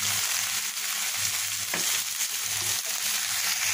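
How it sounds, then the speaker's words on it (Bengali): Boiled rohu fish roe fries with tomato sauce in a pan, giving a steady, close sizzle with faint stirring scrapes throughout and no voices. "ডিমগুলোকে সিদ্ধ করে নিয়ে টমেটো সস দিয়ে ভুনে নিলাম।"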